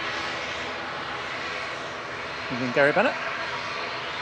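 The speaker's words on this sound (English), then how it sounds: "Aer Lingus UK, heading back to Belfast, GCMJN ATR 72-600 with flight 3619" An Aer Lingus UK ATR 72-600 turboprop heading to Belfast from Manchester hums steadily at moderate loudness, with a brief spoken greeting over it near the end.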